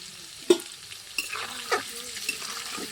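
Potatoes seasoned with turmeric and salt fry over low heat, sending up a gentle sizzle broken by a few distinct spatula knocks and scrapes, close by with no talking.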